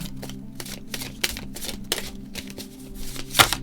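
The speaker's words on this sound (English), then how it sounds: "I'm going to shuffle that stack separately because this is about 20 cards." A stack of about twenty tarot cards is shuffled close by in quick, papery riffles and clacks, several bursts of rapid flicking with short pauses between them and no talk.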